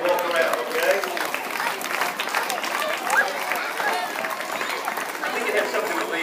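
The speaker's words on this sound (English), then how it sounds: "Big round of applause while they walk around, okay?" Enthusiastic applause from an audience, steady clapping with some chatter mixed in, lasting several seconds.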